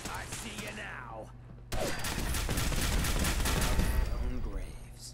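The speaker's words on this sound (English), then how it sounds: "Maybe it's the thing that's shooting at me." Gunfire in the video game Fallout 4, a sudden, loud, sustained burst of rapid shots and impacts erupting after a quieter opening and then cutting off, with a voice heard at the start and end.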